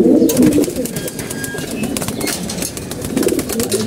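Female pigeons in a loft give soft, low coos at the start and again near the end, with light rustling and shuffling in between; close and moderately loud, with no speech.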